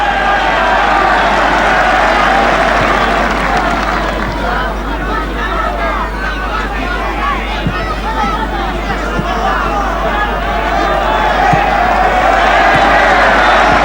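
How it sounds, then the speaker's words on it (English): Argentinian football fans in a stadium applaud a player during a Copa America 1995 match against Chile, a broad, steady roar of crowd noise and clapping under a commentator's voice. "Hugo Perez getting applause from the Argentinian fans here"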